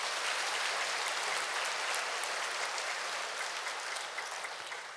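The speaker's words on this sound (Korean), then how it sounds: "우리 손 드신 분들 위해서 한번 박수 한번 해주시기 바랍니다" A church congregation claps for its group leaders, a dense, steady wash of applause that stays fairly even and tapers slightly toward the end, with no talking over it.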